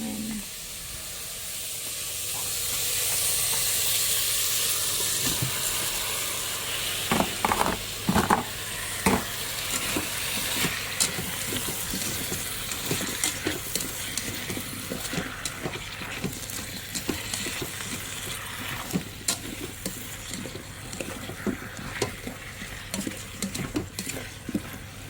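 Chicken pieces for menudo sizzle and hiss steadily in a pan, with the scrape and clatter of stirring repeating over the frying.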